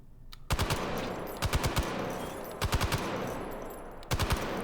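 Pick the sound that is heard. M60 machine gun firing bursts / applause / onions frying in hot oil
M60 machine gun firing bursts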